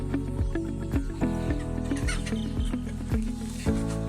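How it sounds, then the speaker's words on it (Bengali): Many hens clucking and squawking together in a park, a busy, repetitive chorus, close and fairly loud, with overlapping calls throughout. "মোটামুটি ভালোই মুরগি এখানটায় রয়েছে"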